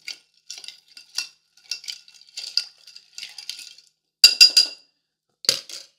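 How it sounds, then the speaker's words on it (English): Ice clinking and rattling against glass as an old fashioned cocktail of spirits and bitters is stirred with a bar spoon, a series of quick, close, bright clinks in uneven bursts, with a louder rattle near the end. "And then we add the spirits and the bitters with the ice. Going to stir it."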